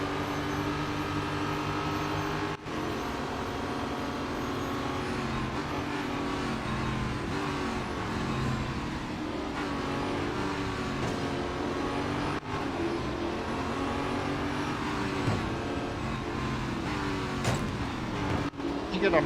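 Engine of a racing car in Real Racing 3 drones continuously with shifting revs throughout a race, under someone talking.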